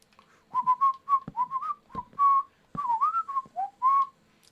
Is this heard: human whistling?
yes